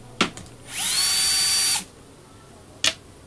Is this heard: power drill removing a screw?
yes